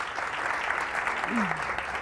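A studio audience on a Catalan TV spelling game show applauds a correct answer, steady close clapping running through the whole moment, with a voice briefly heard over it.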